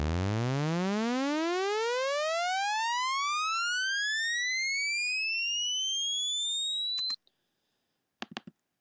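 A synthesizer riser built from a simple saw wave with a pitch envelope sweeps steadily upward from a low buzz to a piercing high tone over about seven seconds, then stops abruptly, followed by a few faint clicks.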